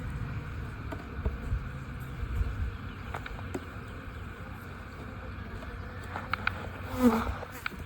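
Honey bees hum continuously at a beekeeping farm, a close, steady droning buzz with a few louder passes and faint clicks.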